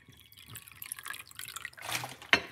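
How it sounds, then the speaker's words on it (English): Cold water poured from a bottle into a drink, a light close trickle with dripping splashes building to a sharp splash near the end, no voices. "So that is some cold water from my bottle."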